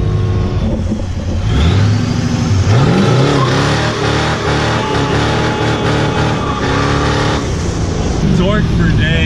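A street-legal NASCAR pickup truck accelerates hard in second gear, its engine note climbing loudly and steadily for several seconds as people talk over it.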